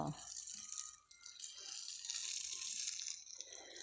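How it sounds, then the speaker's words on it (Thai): Water pours and splashes onto vegetable plants during garden watering, a steady close rushing hiss with faint background sounds. "ให้น้ำผักนะคะ"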